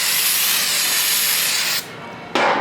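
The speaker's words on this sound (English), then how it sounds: "clean the rest of the pan with some carburetor spray" A steady, close aerosol spray of carburetor cleaner hisses continuously onto a Ram 65RFE transmission pan, pauses briefly, then bursts on again loudly.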